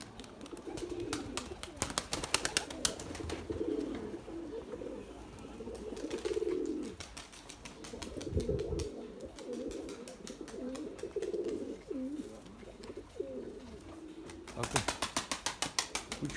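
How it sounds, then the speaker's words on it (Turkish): Pigeons cooing close by with bursts of wing flapping as a flock of tumbler pigeons flies overhead, a soft outdoor background carrying the repeated low calls. "Bir sürü kuş oldu bakın havada."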